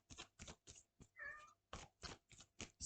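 A domestic cat meows once in a short, clear call, set among a series of quiet rhythmic tapping or shuffling bursts in a calm indoor room, all faint and with no speech.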